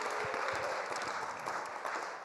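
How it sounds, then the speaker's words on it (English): Audience applause greets guest actors at a musical theater class presentation, a brief wash of many hands clapping at moderate volume for just over two seconds. "can we just start off by giving them a round of applause?"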